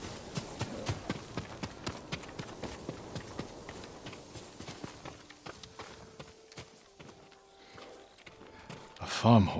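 A farm horse walking in Ghost of Tsushima, hooves clip-clopping in a steady even rhythm, close and distinct, with a faint tonal game sound and a louder rustle at the end.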